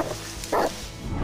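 An Argentinian Mastiff gives a single short, deep bark midway through, over a rough, noisy background.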